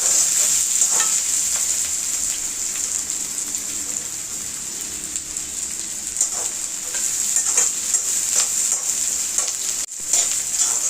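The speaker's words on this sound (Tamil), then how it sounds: "தக்காளியும் வெங்காயம் நல்லா வதங்கட்டும்." Tomatoes and onions sauté in a pan with a loud, steady, hissing sizzle that sounds almost like rain, with faint stirring scrapes and a short break near the end.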